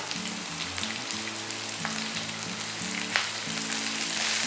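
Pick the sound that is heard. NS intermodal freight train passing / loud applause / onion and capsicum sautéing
onion and capsicum sautéing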